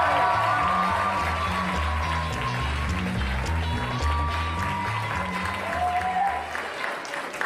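An audience applauds a comedian at a live comedy show, a steady wash of clapping from a crowd over a rhythmic low musical beat, fairly loud and sustained, with some voices mixed in.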